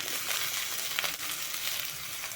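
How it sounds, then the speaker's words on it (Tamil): Moong dal and dried red chillies frying with onions in a pan for a banana flower dish, a loud continuous sizzle with crackling bursts close by, no talking. "பாசி பருப்பு வரமிளகா போட்டுட்டு நல்லா ஒரு நிமிஷம் வணக்கிக்கோங்க"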